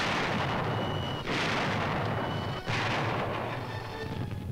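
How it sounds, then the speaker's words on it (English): Naval guns bombard the coast during the 1944 invasion of Southern France, heavy booming blasts rolling over a constant dense rumble, two big detonations standing out, with no speech. "The magnitude of naval fire was maintained as strongly as the air support."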